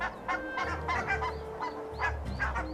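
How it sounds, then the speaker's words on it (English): Barnacle geese at an Arctic cliff nesting site honking in repeated nasal calls, several birds overlapping in a loud, close flock with a low rumbling background. "Barnacle geese, another Arctic cliff nester."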